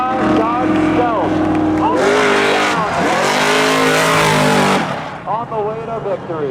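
A 1995 Dodge Stealth drag racing at Seekonk Speedway during a spectator drag event, its engine revving loud and close through rising gear pulls, then backing off and fading, with an announcer's voice over the noise.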